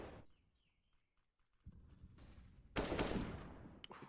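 Gunfire in a competitive esports shooter match in an Australian and New Zealand championship, faint clicks and bursts early, then a loud, dense volley of shots near the end, with no voices.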